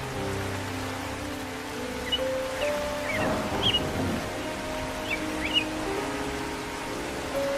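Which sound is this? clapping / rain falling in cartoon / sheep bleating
rain falling in cartoon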